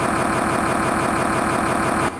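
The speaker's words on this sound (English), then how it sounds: "Hey, just so you know, the engine just started." A car engine idles in cold snowy air just after starting, a loud, steady, dense mechanical rumble with a fast even throb, running without pause until it drops slightly at the very end.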